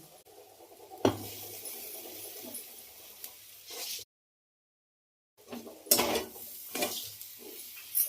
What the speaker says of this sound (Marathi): त्या मसाल्यामध्ये आपल्याला दोन्ही छान असं मिक्स करून परतून घ्यायचंय